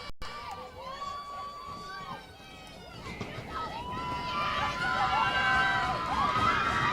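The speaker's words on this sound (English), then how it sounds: "Crowd getting very loud here." Spectators at a college field hockey game between the Bears and Salem State cheer and shout, the roar of yelling voices swelling steadily louder toward the end, with a commentator talking over it.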